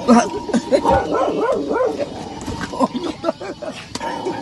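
A dog barks, yips and whimpers in short scrappy bursts during an attack, mixed with frantic shouting voices close by.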